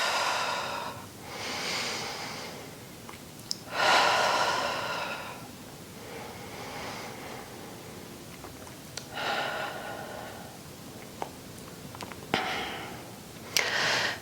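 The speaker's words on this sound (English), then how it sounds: "breathing in through the nose, out through the mouth" Slow, steady breaths repeat through a Pilates reformer stretch, each drawn in through the nose and pushed out through the mouth. They come as soft, airy swells every few seconds, close and unaccompanied over a low background hiss.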